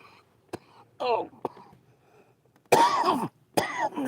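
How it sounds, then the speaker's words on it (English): A person with a bad back coughs while fishing outdoors on a cold lake: a series of close, harsh coughs and throat-clearing bursts spaced unevenly, the last two longer and louder, with quiet gaps between. "Coughing with a bad back is bad."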